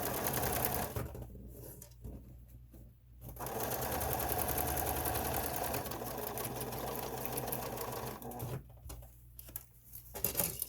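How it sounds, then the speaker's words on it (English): An electric sewing machine top stitches about a quarter inch in along a blue fabric face mask, running in steady continuous bursts with short pauses between them, loud and close. "And then I'm top stitching again about 1/4 inch in."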